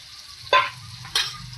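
Spices (turmeric, salt, coriander-cumin powder and red chili powder) are stirred in a pan of hot oil for a rustic Gujarati oro, with two short scraping sizzle bursts over a low steady frying hiss.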